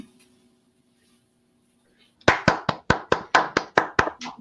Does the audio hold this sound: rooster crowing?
no